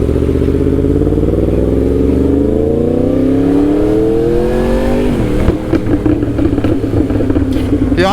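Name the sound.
Mercedes car engine revving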